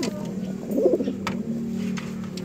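Racing pigeons coo softly at close range, a low burbling call swelling once in the middle over a steady background hum, with faint clicks and rustles around them.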